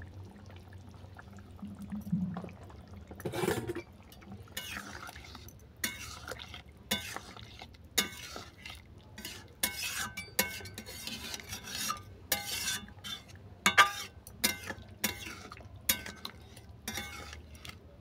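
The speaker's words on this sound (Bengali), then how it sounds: "চলো, সর্ষেটা ভালো করে মেশানো হয়ে গেছে" White mustard paste being stirred into a fish curry of boroli fish with mixed vegetables in a pot, soft scraping and clinks of a spoon against the pot, intermittent and close, with a louder splash early on.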